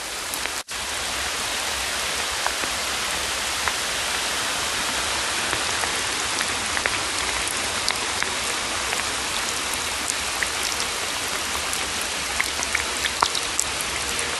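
Heavy rain pours down continuously, a dense, even hiss of drops hitting surfaces, loud and unbroken with no voices.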